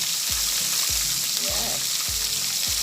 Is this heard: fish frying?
yes